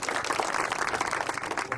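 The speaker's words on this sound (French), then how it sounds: "Applaudissons-le." A university debate audience gives a short, faint round of scattered applause, clapping steadily without talk.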